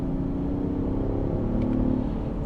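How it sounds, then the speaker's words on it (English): A 2024 Range Rover Sport Autobiography plug-in hybrid engine starts, hums and rises in a steady low rumble, revving smoothly without any sharp bursts. "Engine kicks on, give it some revs here."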